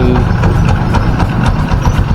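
A Rossi TC150 motorcycle engine idles after a tune-up, close and loud, with a steady, even rhythm of low pulses.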